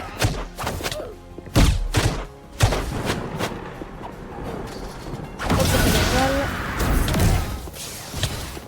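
Rapid bursts of gunfire from a zombie farming video game, a quick run of sharp thuds and shots with short pauses, then a denser, noisier stretch of rapid firing near the end.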